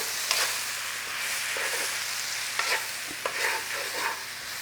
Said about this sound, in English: add your spice mix in there. Stir it all through.